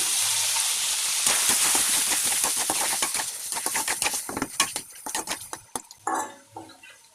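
Chicken fries in a pan with chili powder, ginger-garlic paste and salt, crackling and sizzling loudly while a utensil stirs and scrapes in quick bursts that thin out toward the end.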